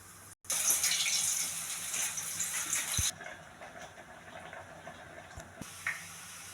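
Tap water gushes steadily into a sink while cassava root is washed, close and continuous, then drops to a softer trickle with a couple of small knocks.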